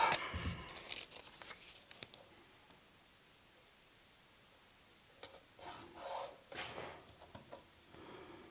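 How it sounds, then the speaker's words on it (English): Masking tape tears off the roll in short rasping rips near pre-finished wood on a copper-topped executive desk build, quiet bursts separated by a long silent gap. "so I don't get glue on the areas that I pre-finished, we're gonna tape that off"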